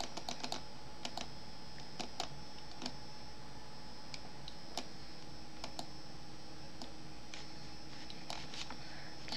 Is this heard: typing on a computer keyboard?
yes